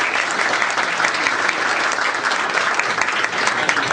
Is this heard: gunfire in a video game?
no